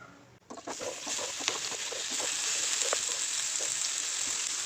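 Onions hitting hot oil on a tawa set off a steady, close hiss that swells and holds, with a few soft pops and clicks through it.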